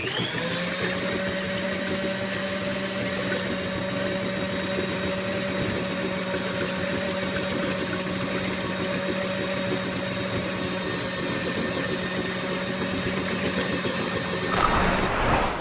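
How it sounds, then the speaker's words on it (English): Electric mixer whisking cream into butter, a steady loud motor whine with a constant hum that runs unbroken, rising briefly near the end. "we were still whisking it and separating the buttermilk from the butter"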